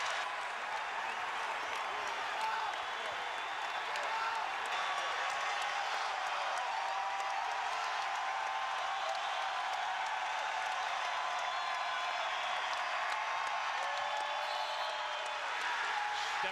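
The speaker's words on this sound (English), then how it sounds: "Now here comes the crowd again." Arena crowd at a Michigan versus Michigan State college basketball game, a sustained roar of cheering and applause that stays level and dense throughout, heard from a distance without clear individual voices.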